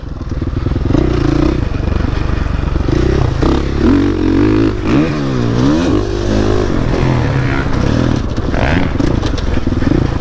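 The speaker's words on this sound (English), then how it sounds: "trying to ride a bike that I've never ridden before on a little tight track" A motorcycle ridden on a small, tight dirt track, its engine loud and close throughout, revving up and down with changing pitch as it works through the turns, with some clatter and scraping mixed in.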